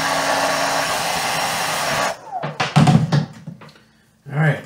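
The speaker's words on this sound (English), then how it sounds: "All right, we'll flash dry that." A flash dryer runs with a steady, loud broadband whoosh for about two seconds while drying a screen-printed base coat, then cuts off, followed by a few thumps and handling knocks and a short burst of airflow.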